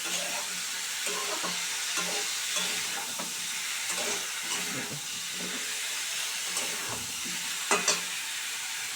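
Eggplant and spinach being stirred and fried in a pan, a soft steady sizzle with rhythmic spatula scrapes and a couple of louder clatters near the end.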